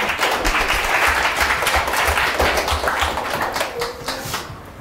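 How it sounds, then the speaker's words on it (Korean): Audience applause after a seminar presentation, loud sustained clapping from a crowd that begins to thin out near the end. "다시 한번 큰 박수 부탁드립니다"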